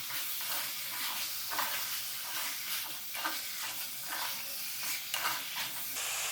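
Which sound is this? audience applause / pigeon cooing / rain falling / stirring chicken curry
stirring chicken curry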